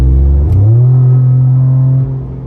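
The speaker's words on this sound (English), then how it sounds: "the Borla attack exhaust is so money. Still on a V8 though." A Ford Raptor truck's V8 engine with a Borla Attack exhaust revs up loud and close, climbing into a deep sustained roar before easing off near the end.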